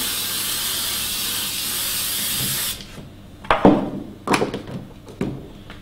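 A loud continuous aerosol hiss of spray adhesive runs for a few seconds, then stops, followed by a few close thumps and handling knocks.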